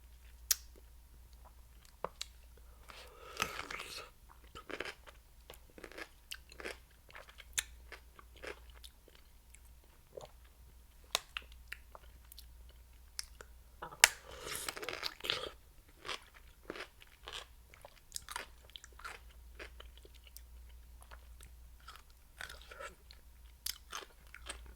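Crunchy snacks chewed close to the microphone in an ASMR mukbang, with crisp bites and irregular crunches over several seconds, and the louder bursts standing out against near silence.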